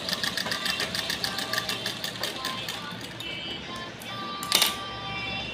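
A sewing machine stitches long fabric pieces together for a round pillow, a steady rapid mechanical whir and clatter running close and fairly loud, with a brief knock near the end.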